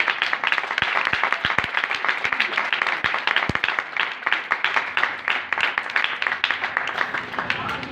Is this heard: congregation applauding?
yes